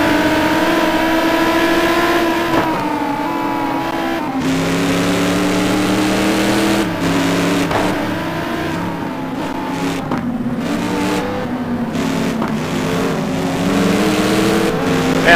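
Lamborghini GT2 race cars in a sim racing game at the Nordschleife, engines droning and revving hard with gear changes and shifting pitch, loud and continuous, other cars' engines layered in.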